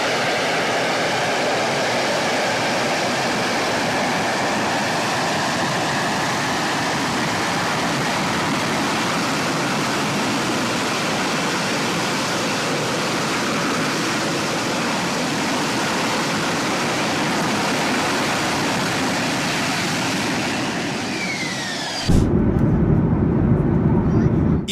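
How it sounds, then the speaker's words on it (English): A jet aircraft doing a vertical takeoff produces a loud, constant, rushing roar that fills the air for about twenty seconds before shifting abruptly to a different, rougher blast near the end. "jets doing vertical takeoffs may just be the coolest thing that's happened in the"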